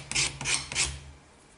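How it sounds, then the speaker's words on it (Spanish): Sandpaper rasps against wood in three quick strokes, close and crisp, while a wooden boat hull is lined, then the scraping fades into quiet. "No lo estáis viendo, pero le estoy dando con la lija"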